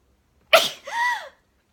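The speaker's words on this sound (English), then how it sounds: "I'm gonna sneeze." A single sneeze bursts out sharply at close range, a quick breathy explosion followed by a short rising-and-falling voiced tail, then silence.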